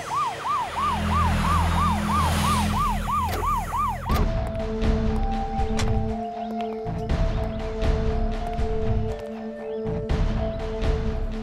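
An ambulance siren wails in a rapid, repeating up-and-down pattern for a few seconds, then gives way to a steady electronic tone amid road traffic noise.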